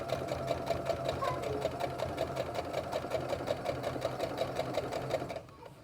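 A sewing machine stitches fabric for a face mask, its needle chattering in a fast, steady mechanical rhythm close by for about five seconds before stopping abruptly.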